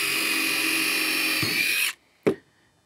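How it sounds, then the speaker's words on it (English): A power drill spins loud and steady for about two seconds while pre-drilling a hole for a screw in a TimberTech Classic composite rail mount, then stops, followed by a single sharp knock. "And I'll pre-drill one hole first."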